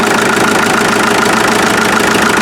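The diesel engine of a 1947 Farmall MD tractor runs loud and close with unadjusted valves, a steady rhythmic knocking chug with no voices.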